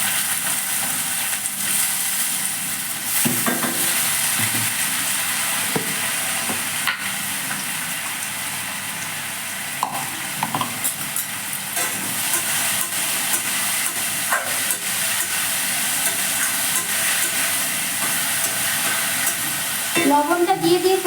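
Potatoes sizzle and hiss in hot oil in a wok, a continuous bright frying noise with occasional stirring clatter, close and loud throughout.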